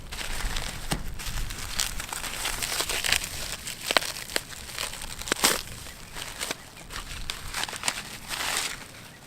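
Butyl tape being handled while sealing the edge of a roof: crinkly, crackling rustles and sticky tearing snaps in irregular close-up bursts, with no talking.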